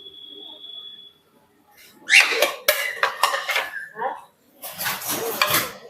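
Plates and bowls being set out for pet lovebirds' morning soft food: clinks and clatters of dishware come in short clustered bursts, close by, between stretches of quiet, with a person speaking.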